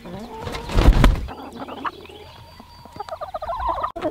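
A burst of loud low squawking and clucking, then quieter scattered clucks and chirps from several birds, with a busier cluster of calls near the end.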